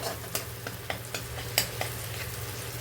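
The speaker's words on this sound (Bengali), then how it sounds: "গরম মশলাটা হালকা ভেজে নেব" Whole garam masala spices frying lightly in hot oil for a prawn malai curry, a soft steady sizzle with a few brief stirring taps and scrapes at irregular intervals, close and fairly quiet, without talk.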